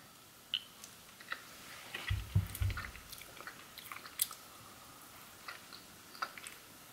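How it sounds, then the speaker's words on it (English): Someone licking and eating birthday cake flavored almond butter from a spoon, close and quiet, with soft wet mouth sounds and a few small clicks and chews, no talking. "I'm just gonna lick the spoon and let you know if it really tastes like birthday cake."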